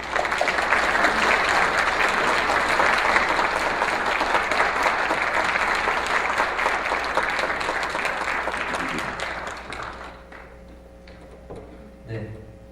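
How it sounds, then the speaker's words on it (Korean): A church audience gives a long, dense round of applause to welcome a newspaper reporter as guest lecturer, loud and sustained for about ten seconds before dying away to a few scattered claps and room noise. "백상현 기자 나오실 때 여러분 큰 박수로 환영해 주시기를 바랍니다"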